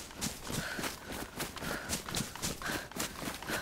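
A deer running in the DayZ video game, rapid rhythmic hoofbeats pounding steadily and fairly close throughout.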